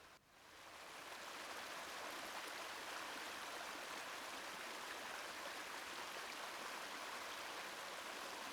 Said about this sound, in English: Notice the sheer force of the water,